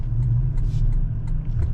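Steady low engine and road rumble from inside a 2022 Toyota Tundra Limited CrewMax with rear load-leveling air suspension, driving in traffic, close and continuous with no talking.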